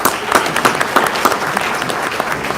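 An audience at an executive ethics symposium breaks into applause, a dense, steady wash of many hands clapping close by for a few seconds.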